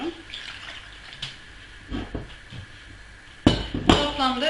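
Water from a small tea glass is poured into a tray of baked Turkish dolma, a brief splashing pour near the end after quieter kitchen clatter, close and fairly loud.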